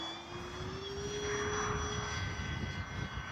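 An RC Kavan Pilatus PC-6 Porter model plane takes off from grass into the wind, its motor a steady, rising whine close by over wind rumble.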